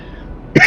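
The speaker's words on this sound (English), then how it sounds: "Sorry for coughing." A single short, harsh cough or throat-clear bursts out near the end, close and loud after a stretch of quiet background hum, from a player during a World of Warships gaming session.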